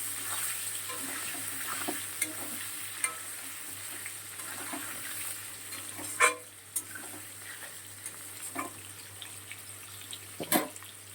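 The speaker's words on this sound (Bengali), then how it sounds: "এঁচোড়টাও খুব ভালো করে ভেজে নিয়েছি।" Green jackfruit frying in a pan, a steady low sizzle running throughout with occasional soft stirring knocks and a couple of sharper clinks near the end.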